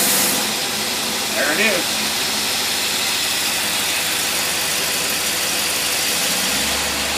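A car engine fitted with a Holley 4412 carburetor runs at a steady, rough mid-level drone throughout, with a brief spoken phrase over it and no clear jump in revs.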